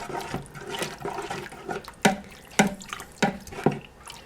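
Water is poured into a pot of chicken tortilla soup made with canned chicken broth, giving a close, splashing trickle broken by several sharper sloshes and drips.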